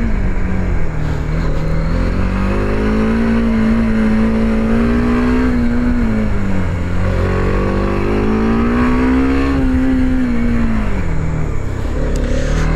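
A TVS Apache RTX 300 adventure motorcycle revs and accelerates in a loud, close, continuous engine drone, pitch rising and dipping as it speeds up and slows under braking during a ride test.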